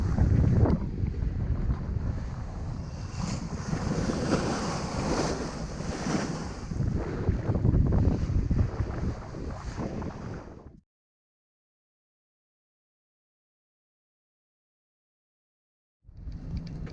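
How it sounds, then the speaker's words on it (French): Wind roars across the microphone while sailing off Ibiza toward Cala Tarida, with waves and spray washing around the hull, loud and continuous for about ten seconds before cutting to silence, then returning briefly at the end. "Le vent est en train de monter gentiment"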